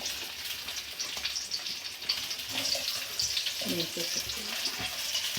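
Chopped onions fry in a few spoonfuls of oil in a pan, making a steady hiss and crackle. A voice talks briefly partway through, over the sizzling.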